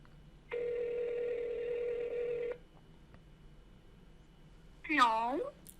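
A telephone handset plays a steady tone for about two seconds, then after a pause a short sweeping electronic ring sounds near the end, all close and clear over a quiet background.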